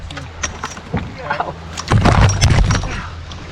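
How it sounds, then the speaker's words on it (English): Canoe dropping over small rapids and rocks on the Eramosa River, with rushing water and hull knocks building louder in the second half, broad turbulent splashing close by. "A little bit of rapids here. We're gonna drop. It's a little bit of a drop over these rocks."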